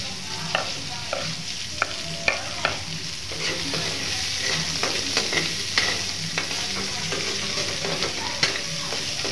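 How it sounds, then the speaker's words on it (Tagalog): Garlic and onion sautéing in cooking oil left from frying carrots and potatoes for pineapple chicken, a steady close sizzle with repeated sharp scrapes and clinks of a stirring utensil against the pan, no voices. "Sa mantika na lang pong pinagprituhan ng carrots at saka patatas natin ginisa ang bawang, sibuyas"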